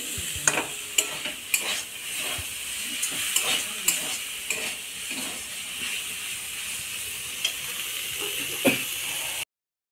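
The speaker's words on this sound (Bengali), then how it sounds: "আমার ভাড়ালি ভাজা হয়ে গিয়েছে, এখন আমি নামিয়ে দেব।" Banana stem pieces frying in a pan give a soft continuous sizzle, broken by repeated clinks and scrapes of a spatula stirring, close and moderately quiet.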